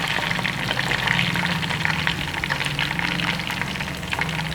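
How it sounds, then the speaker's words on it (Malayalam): Chicken pieces fry in hot oil, a steady, dense crackling sizzle heard up close and continuous throughout, with no talking. "അപ്പോൾ നമ്മുടെ ചിക്കൻ വറുത്ത് കഴിഞ്ഞിട്ടുണ്ട് കേട്ടോ."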